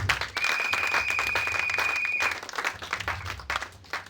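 A church congregation applauding, a dense, continuous round of clapping that stays loud and close before easing slightly near the end, with a faint whistle-like tone partway through.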